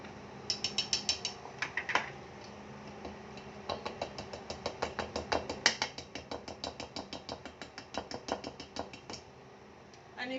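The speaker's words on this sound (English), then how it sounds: "you have to sift your flour" A hand-cranked flour sifter turning in a kitchen during banana bread baking, giving rapid rhythmic ratcheting clicks in bursts with short pauses, close and fairly quiet.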